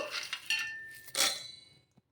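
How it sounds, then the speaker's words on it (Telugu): A few light clinks and a rattle as roasted peanuts drop into a steel mixer grinder jar, close and fairly quiet, fading out at the end. "ఇప్పుడు ఒక మిక్సీ జార్ అయితే తీసేసుకొని వేయించుకున్న పల్లీలు"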